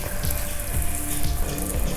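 Water sprays and splashes steadily over a bicycle being washed, poured gently from top to bottom like rainfall, a continuous close spattering hiss with no talking.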